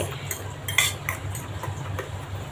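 A spoon clinks and scrapes against a bowl while onion, green chili, turmeric and pepper powder are mixed for an omelette, with close, light taps in quick, irregular succession.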